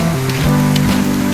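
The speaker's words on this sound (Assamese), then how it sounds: "বৰষুণে পৰিছে" Rain falls steadily during an evening walk, a dense close patter with no talk over it.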